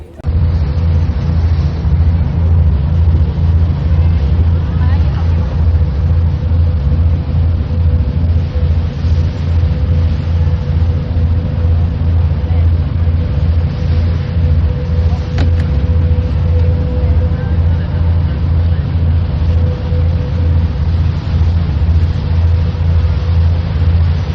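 A tour boat's engine starting abruptly and then running at a steady, loud, deep throb for a long stretch, close by and unbroken, during a sightseeing trip in China.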